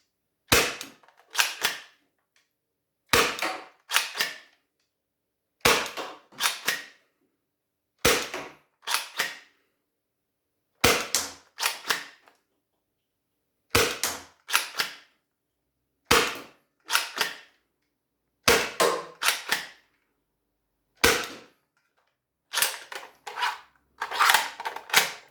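Toy dart blaster firing Adventure Force Pro Darts, fitted with machined upgrade barrels, in sharp snappy bursts of two or three shots each, repeated about ten times with short silent gaps between volleys.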